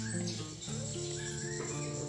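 A white-rumped shama (murai batu) sings in a short run of clear whistled phrases and chirps, close and continuous, with no voices.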